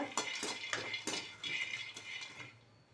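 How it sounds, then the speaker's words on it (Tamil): Groundnuts dry-roasting in a pan, stirred with a spoon that scrapes and clinks against the metal in a steady rhythm of short strokes, close up, gradually quieting toward the end. "வேர்க்கடலை நம்ம இப்படி தான் வறுத்துக்கணும். இந்த மாதிரி வறுத்துக்கோங்க."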